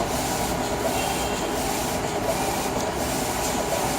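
A Chinese-made eco-solvent printer with a front take-up roll prints water decals, giving a steady, close mechanical whir and rumble with a faint rubbing carriage noise throughout, no voices.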